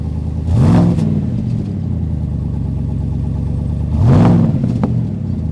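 A 2020 Harley-Davidson GMC Sierra pickup's engine idles with a low rumble through a custom exhaust, then revs twice in sharp rising bursts from the exhaust, close and loud.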